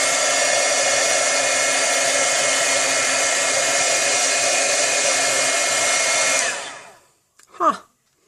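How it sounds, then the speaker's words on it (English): A heat tool blows a loud, steady, close whoosh while heat-setting embossing on paper, cutting off after about six seconds and followed by a brief spoken word. "I'm going to hit it with the heat tool."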